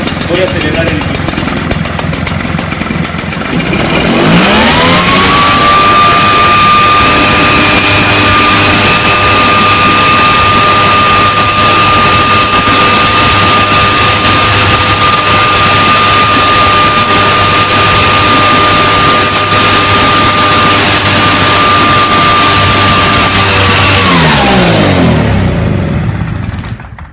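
A Solo Port 423 thermal fogger, used for insect control, revs up from a rough idle into a loud, steady high-pitched engine drone that holds for about twenty seconds, then dies away as it runs out of fuel.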